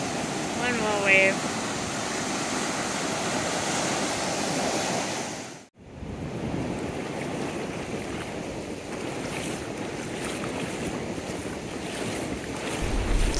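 Ocean waves rolling onto an Oregon beach make a loud, continuous roar and wash. Wind noise runs through it, and a brief break splits the steady surge midway.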